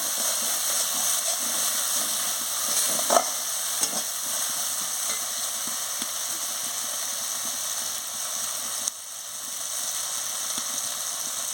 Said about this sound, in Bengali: সামান্য জল দিয়ে মশলাটাকে ভালো করে কষিয়ে নিচ্ছি